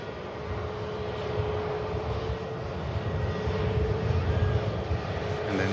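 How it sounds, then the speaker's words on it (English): A Scandinavian airliner taxis past at Manchester Airport, its engines a steady, low rumbling roar with a thin whine on top, holding close and loud and swelling slightly toward the end, with no voices. "Scandinavian just taxiing past us here for the return leg to Oslo."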